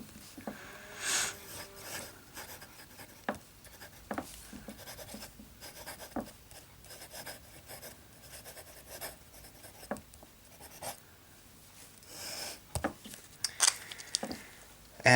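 A pen writing with Rohrer und Klingner Alt Goldgrün ink scratches across paper in close, quiet strokes, irregular bursts of scraping and tapping with short pauses between words.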